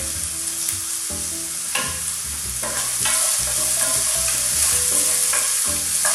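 SPAM frying in a pan with chopped carrots, sizzling steadily and loudly while a utensil stirs and scrapes through it, with clattering knocks throughout and no voices.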